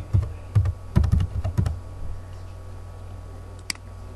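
A burst of quick keystrokes clatters on a computer keyboard while code is entered in Pascal, close and distinct, then stops and gives way to a quiet room hum, with a single faint click near the end.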